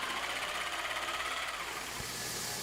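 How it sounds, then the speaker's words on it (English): Jigsaw cutting a big radius on a walnut corner, a steady, buzzing mechanical whine that runs continuously, fairly quiet and without talk. "back to put a big radius on the corner there with the jigsaw"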